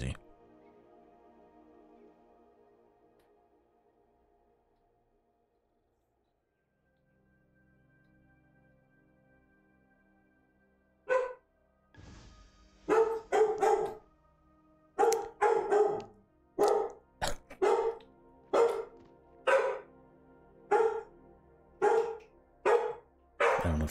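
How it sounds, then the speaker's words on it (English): A dog barks outside in a frantic run of loud, repeated barks after quieter stretches, the barks coming in quick clusters and then at a steady beat. "Dog's going crazy."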